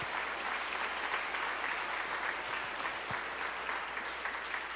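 Church congregation applauding during a Portuguese-language sermon, a steady, dense wash of many hands clapping throughout, fairly distant and even in loudness with no talk over it.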